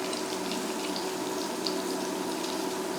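Salted pork sizzling in a pan as onions are added, a steady bright hiss of frying that stays even and continuous throughout.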